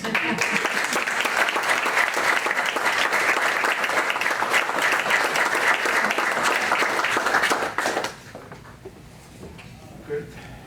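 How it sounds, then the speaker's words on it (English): Audience applause after a talk at a scientific update meeting, a dense sustained clapping crowd that fills the room loudly for about eight seconds, then cuts off sharply and leaves a quiet hall with a few faint stray sounds. "if anybody claps"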